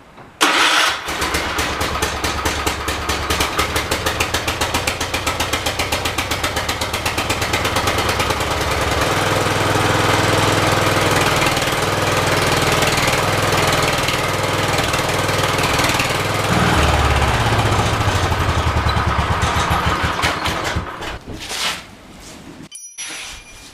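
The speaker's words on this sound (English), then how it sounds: "start and run the mower to heat up the oil a little bit so it drains out easier" A John Deere 214 riding mower engine cranks, catches and settles into a loud, steady run close by, shifting pitch partway through before cutting off near the end; no one speaks.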